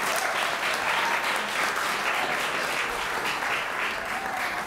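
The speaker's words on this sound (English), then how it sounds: "let's give her another round of applause" An audience at a Black American heritage flag-raising service gives a round of sustained applause, dense steady clapping from a crowd throughout.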